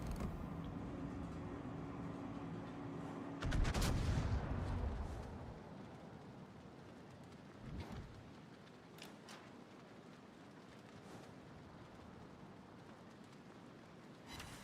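Enemy gunfire strikes a player's ship in World of Warships, with a loud booming impact burst at about four seconds and a smaller thud near eight seconds over a low rumbling ambient bed.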